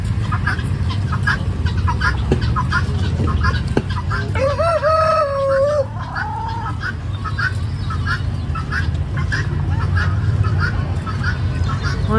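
A rooster crows once loudly and close over a busy background of repeated chicken clucking, recorded at a campsite.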